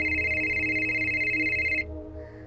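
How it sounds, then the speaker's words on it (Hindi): A telephone rings loud and close with a steady electronic tone, then cuts off abruptly near the end, leaving quieter background noise. "पूरी 10 बेल्स चली गई थी।"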